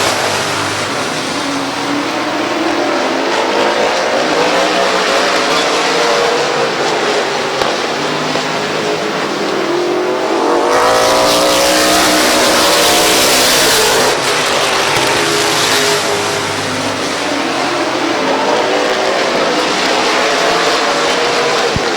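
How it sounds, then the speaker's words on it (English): Race cars roar around the oval at Midvale Speedway in a continuous, dense engine drone. The sound surges louder as cars sweep past, then eases back, with several engines overlapping at mid distance. "Sangquest Jr. into turn number 3 with the race lead."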